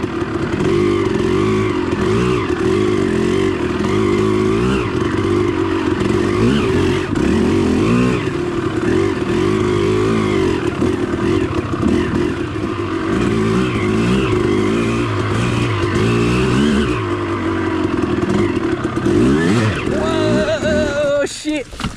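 Suzuki RM250 two-stroke dirt bike ridden hard through mud, its loud engine revving and drifting continuously close to the camera, with a rider's voice occasionally breaking through the steady roar.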